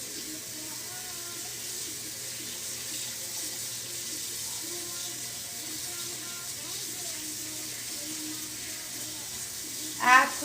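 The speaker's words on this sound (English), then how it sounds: "let's rinse out this hoodie" A tie-dyed hoodie being rinsed under a running tap, giving a steady continuous splash of water, with a brief louder knock near the end.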